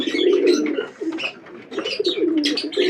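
Native domestic pigeons cooing up close, repeated throaty rolling coos with short pauses between them and a few higher chirps mixed in.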